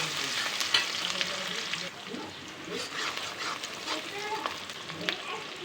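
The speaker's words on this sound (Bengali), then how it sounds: "কড়াইতে তেল দিয়ে দিলাম। মাছ ভাজার কিছুটা তেল ছিল, সেটা দিলাম। আর এমনি তেল দিয়ে দিলাম, পেঁয়াজটা কুচি করে দিলাম।" Chopped onion sizzles in hot oil in a wok, a dense, steady hiss with stirring scrapes and small pops throughout, fairly close and loud.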